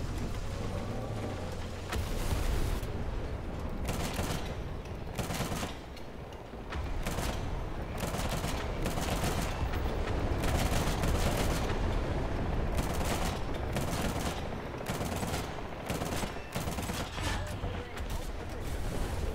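A British Marksman anti-aircraft tank on a Chieftain Mk.10 hull firing its autocannon in War Thunder, long loud rattling bursts broken by short pauses, with mechanical clanks throughout and a voice talking now and then.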